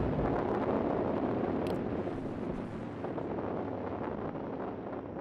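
A pressure-fed liquid rocket engine in a video game fires as a continuous loud, rough broadband roar that holds steady for the whole stretch, with no talk over it.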